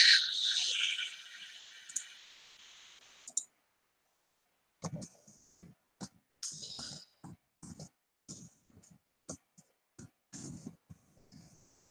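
Fast clicking, like someone typing on a computer keyboard, fills the first few seconds with dense, bright taps. After a brief silence come sparser, irregular single clicks and knocks with gaps between them, fairly close and moderately loud.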